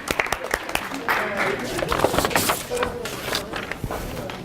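A college audience at an improv cafe show claps for an improv group taking the stage, with scattered, uneven applause and some footsteps and speech mixed in.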